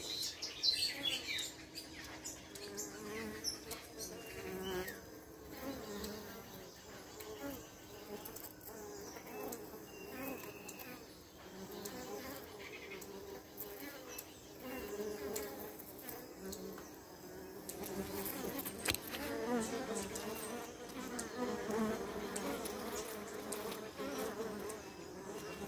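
Honeybees stream back into their hive after foraging on natural pollen, making a dense, continuous buzz of many wings close by, steady throughout with a faint voice or two underneath.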